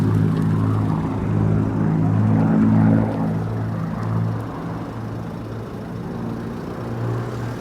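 Aircraft drone over an RAF base runway, a steady low engine rumble that swells and then eases slightly, with no voices.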